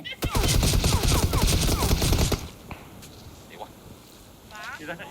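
A loud, rapid volley of automatic gunfire in PUBG on the Miramar desert map cuts off abruptly, followed by scattered faint distant shots and light game noise.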